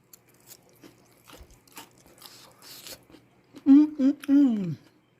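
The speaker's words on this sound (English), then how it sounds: "you hear that crunchiness?" Quiet crunching and crisp bites of a fried bean fritter (Nigerian akara) come first, followed by a voice speaking loudly up close at the end.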